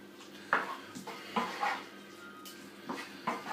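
Spiced chicken tikka masala ingredients being mixed together in a pan, giving a series of separate clinks and scrapes of utensil against pan, spaced irregularly and heard up close.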